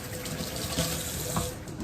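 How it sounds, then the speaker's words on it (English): Tap water runs steadily into a kitchen sink as hands are washed during meatloaf and meatball cooking, a continuous close splashing hiss with no talk. "Now I'm just gonna wash my hands."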